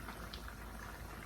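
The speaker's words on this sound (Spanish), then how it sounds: "Nuestro arroz ya está hirviendo." Rice boiling in a pot on the stove, a soft steady bubbling and simmering, faint and close, with no voices.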